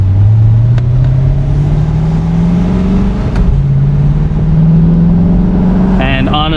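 A 2020 Chevrolet Corvette C8 Stingray 1LT, base model without Z51, accelerating hard from the driver's seat, engine note climbing steadily in pitch through one gear, a brief drop at the shift, then rising again, loud and close.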